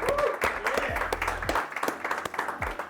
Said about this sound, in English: And so give a big round of applause from Brandon.